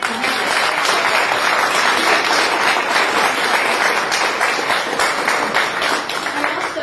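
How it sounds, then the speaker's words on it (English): Sustained applause from a gallery audience at an art exhibition opening, a dense steady wash of clapping that runs loud and unbroken throughout. "Let's have another round of applause for our artists and our curators."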